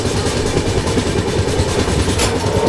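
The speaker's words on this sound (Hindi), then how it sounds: "ये जा रही है अपनी Thiruvananthapuram Korba north super fast express" A Thiruvananthapuram–Korba North Superfast Express passes near a bridge after the Wardha River, a steady loud rumble with a rolling clatter of wheels that goes on throughout, with no voices.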